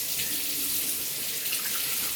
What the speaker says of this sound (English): make sure prior to using a fresh new straight razor that you rinse out the oil